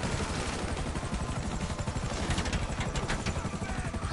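A helicopter in the video game GTA 5 churns with a continuous rapid rotor chop, loud and close, mixed with bursts of in-game gunfire.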